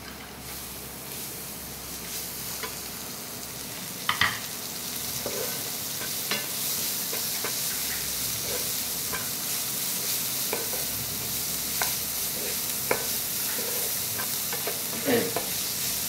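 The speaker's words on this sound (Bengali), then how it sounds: "পেঁয়াজ কুচিটা যতক্ষণ অবধি না মানে গোল্ডেন ব্রাউন হচ্ছে ততক্ষণ অবধি ভাজতে হবে" Chopped onion fries with a constant, even sizzle in a pan, turning golden brown, while a utensil stirs and scrapes with occasional sharp taps throughout.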